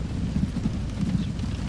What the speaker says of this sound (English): rattle-riding horse cart